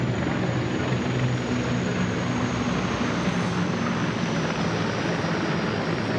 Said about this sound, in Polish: śmigłowce Mi-24 z 1. Brygady Lotnictwa Wojsk Lądowych. To są typowe śmigłowce uderzeniowe.